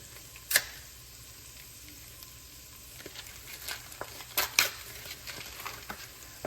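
Food sautés in a hot pan while crack chicken noodle soup is being made: a soft, low sizzle with occasional stirring clinks and scrapes, rather quiet.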